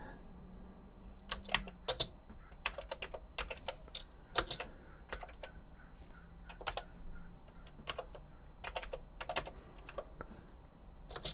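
Commodore 128 keyboard being typed on, with irregular close key clacks in short bursts and pauses in a quiet room.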